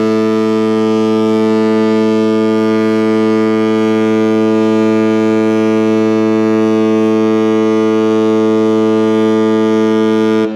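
A cruise ship's horn blasts as the ship sets sail, one long, very loud, steady harmonic tone lasting about ten seconds before cutting off.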